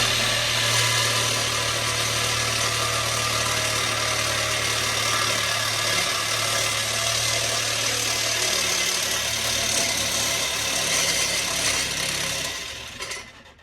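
A power tool cutting a rusted exhaust pipe on an 1989 Chevy Caprice grinds steadily for several seconds, a loud continuous whine with a low droning hum underneath, then winds down at the end.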